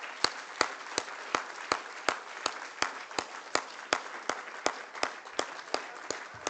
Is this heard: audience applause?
yes